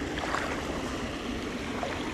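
A small waterfall in a tiny creek splashes and burbles steadily close by, a continuous moderate wash of running water with no voices over it.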